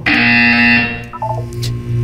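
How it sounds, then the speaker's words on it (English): A loud, sustained electronic buzzer from the video game Portal 2 sounds steadily for about a second, then fades into lower game tones and ambience. "When you hear the buzzer, look up at the ceiling."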